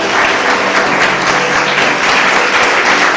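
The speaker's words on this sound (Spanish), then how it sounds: "Den un fuerte aplauso al Señor." Church congregation applauding at a Spanish-language worship service, a loud, dense and continuous wash of clapping filling the whole short stretch.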